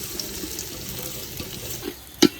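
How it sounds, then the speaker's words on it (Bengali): Soaked, drained rice frying in hot oil with cloves, a soft, steady low sizzle close by, broken by a few faint stirring scrapes and one sharper clink near the end. "চালটা দিয়ে দিচ্ছি, একটু শক্ত করে ভেজে নেব আর কি।"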